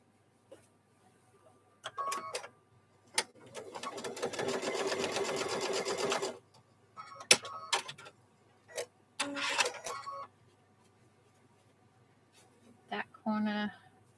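A sewing machine stitches fabric microwave bowl koozies in short runs and one longer sustained burst, close and clear, with pauses between seams and faint handling noises.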